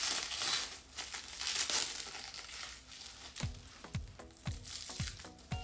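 Plastic wrapping on top of a honeycomb crinkles and crackles up close, soft and irregular, followed by several sharp sticky rustling pulls near the end.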